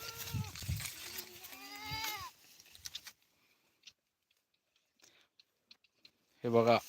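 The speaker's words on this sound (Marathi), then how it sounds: "बघा चरत आहेत शेळ्या आपल्या" Goats bleat and wavering animal calls blend with a voice, then quiet chewing and small clicks of grazing, ending with a close, loud bleat.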